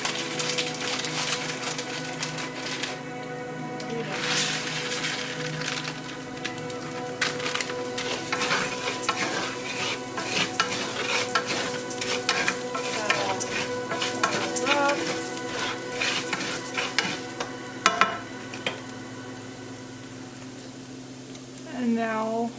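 Risotto rice is stirred in a hot pan, a steady sizzle running throughout under repeated scraping, clacking strokes of the spoon against the pan, close and busy, with a voice speaking over the cooking.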